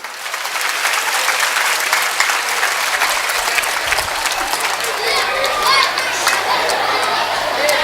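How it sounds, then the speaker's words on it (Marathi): Audience applause at a Marathi government upper primary school's platinum jubilee event in Muchandi, Belgaum, led by the mothers: dense, steady crowd clapping that fills the whole stretch at close, even loudness. "आयाने पहिल्यांदा टाळ्या वाजवायला काही हरकत नाही."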